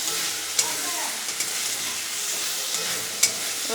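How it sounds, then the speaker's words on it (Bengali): A fish and bottle gourd curry with slit green chillies sizzles loudly in a pan, a continuous close frying hiss broken by a couple of sharp clicks from stirring, with no talking. "ভালো করে এটাকে কষিয়ে নিতে হবে একটু জল দিয়ে"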